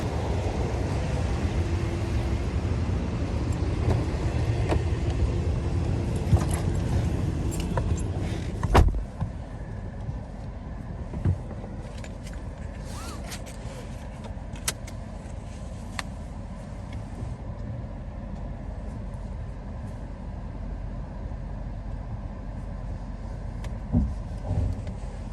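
Cabin noise from inside a Mercedes-AMG GLS 63 SUV on the road, a steady low rumble and road roar that drops to a quieter hum partway through, with a few faint clicks and knocks and no talking.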